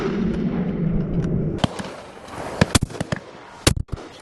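Shotgun fire at a driven partridge shoot outdoors: a rough wind-blown background, then several sharp distant cracks spaced irregularly, the last two close together and louder.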